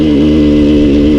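Suzuki 125 TSR trail motorcycle engine running steadily while riding an off-road mountain pass track, a loud, close, continuous mid-pitched drone with slight wavering in revs and no voices.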